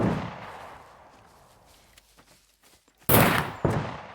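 Gunfire in the video game SCUM: after a stretch of low ambient noise, a few faint distant pops, then two loud, sharp shots close by.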